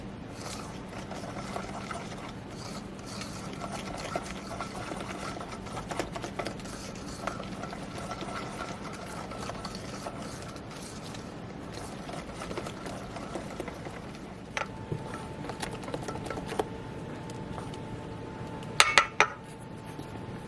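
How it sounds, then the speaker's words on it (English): Strawberry cobbler ingredients with homemade vanilla flavoring being mixed together in a bowl, soft steady scraping and stirring with occasional light clinks of a utensil against the bowl, fairly quiet and without talk. "Now we're just going to mix all this together."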